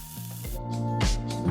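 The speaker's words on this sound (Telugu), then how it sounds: "కొంచెం ఆయిల్ వేసి వాష్ చేసుకున్న పుదీనా ఆకును క్రిస్పీ అయ్యే వరకు వేయించాను." Washed mint leaves frying in a little oil until crisp, giving a soft, close hiss and sizzle with brief crackles over a steady low hum, no talk.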